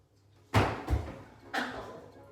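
A kitchen oven door is opened: a loud thud and rattle, then a second clunk and a later hollow knock, close by in a quiet room.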